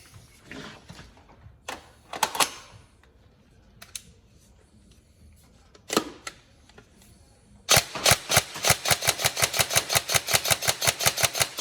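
An upgraded Tokyo Marui 417 DMR NGRS airsoft electric gun fires single shots: a few isolated sharp clicks early on, then a long rapid string of evenly spaced snappy shots, close and loud.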